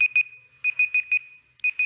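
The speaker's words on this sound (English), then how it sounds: "Okay, that's my timer." A timer beeping in rapid clustered pairs and triplets of high electronic tones, clear and close against near silence.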